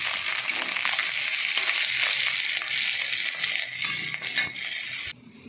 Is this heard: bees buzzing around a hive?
no